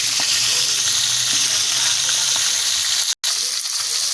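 Crushed milkfish (bangus) sizzles in hot oil in a pan, a loud, steady hiss that runs continuously, broken once by a brief moment of silence.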